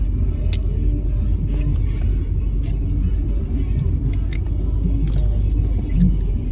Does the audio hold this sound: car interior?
yes